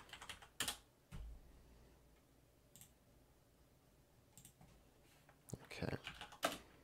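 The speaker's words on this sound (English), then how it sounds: "I'm just gonna type this down here." Quiet keys clack on a computer keyboard during an IT help roleplay. Short, scattered bursts of close typing are separated by near-silent pauses, with a stronger flurry near the end.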